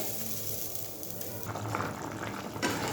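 Water is poured into a hot pan with potatoes and starts bubbling, a dense, continuous close hiss and sizzle that briefly intensifies with a rush midway, with no talk.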